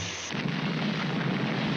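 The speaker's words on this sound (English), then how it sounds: "That explosion really smashed you up." A cartoon explosion from the Underdog animated show bursts in with a loud, rumbling roar that holds steady and dense across the whole moment, with no speech.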